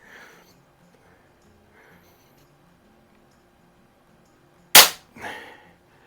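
Umarex Zelos air rifle firing a heavy pellet, a single sharp close crack followed by a softer echoing thud, with quiet background otherwise.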